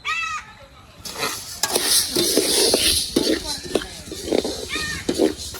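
Urad dal and other lentils stir-fried in a pan for Andhra arisalu and murukulu, with steady hissing sizzle and scraping stirs across the clip, someone talking over it throughout.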